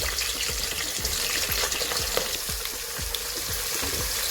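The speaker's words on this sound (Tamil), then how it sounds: "வெங்காயம் நல்லா பொன்னிறமாக வர வரைக்கும் வதக்கணும்." Onions sautéing in a pan for mushroom biryani produce a loud, close, continuous sizzle with rhythmic spatula scrapes repeating about twice a second, with no voices.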